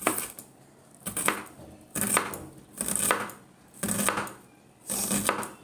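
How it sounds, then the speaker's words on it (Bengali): Food cut on a kitchen board while preparing a sour fish-roe dish: six sharp, evenly spaced chopping strokes, close and crisp, with no talking. "এইভাবে কেটে নেব।"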